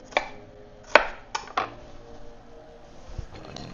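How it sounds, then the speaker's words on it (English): A knife rough-chops vegetables for a green gazpacho on a cutting board, giving four sharp, close knocks in quick succession, then near silence. "So just give this a rough chop."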